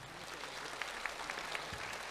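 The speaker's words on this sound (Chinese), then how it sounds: "我们再给他们一点掌声好不好？" Scattered audience applause for a group of Sha-style martial arts performers at a traditional routines showcase, a soft steady patter with a few sharper claps, fairly distant and without talk.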